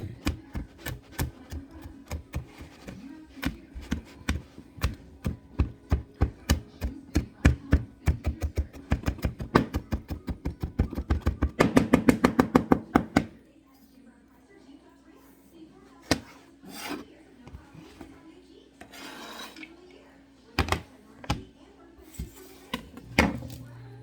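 A knife chopping ingredients on a board while prepping sticky pork ribs, a steady run of sharp close taps that speeds into a fast flurry, then sparse knocks afterward.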